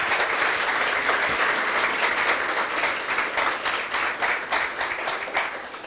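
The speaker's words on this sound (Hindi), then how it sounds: "आइए ऐसे ही यीशु के लिए ताली बजाएंगे हम सब।" A church congregation claps together in praise of Jesus, a loud sustained wave of many hands that carries for several seconds, becoming slightly more rhythmic and then easing off toward the end.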